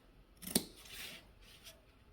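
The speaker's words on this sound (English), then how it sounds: "whenever I have curves, I like to clip the seam" Scissors clipping the curved seam allowance of a corset jumpsuit, one crisp close snip followed by a softer sliding cut and a faint later tick, quiet and isolated without any talking.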